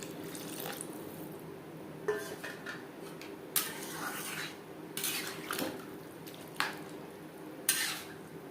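Masoor dal and papaya being stirred in a pan, with a series of scattered metallic scrapes and clinks of utensil against cookware over a soft, steady background, fairly quiet and without talk.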